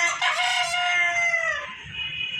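Pet chickens kept alongside quail let out a loud, close rooster crow that trails off, followed by softer clucking and murmuring from the flock.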